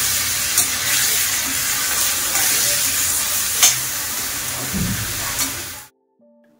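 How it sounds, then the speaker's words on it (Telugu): Ridge gourd pieces fry in oil with mustard seeds, cumin and urad dal, a steady close sizzle with a few clinks of stirring before the sound cuts off abruptly near the end. "ఫస్ట్ ఆయిల్లోని ఆవాలు, జీలకర్ర, మినపప్పు వేసి కొంచెం ఫ్రై అయిన తర్వాత బీరకాయ పీసెస్ యాడ్ చేసుకోవాలి"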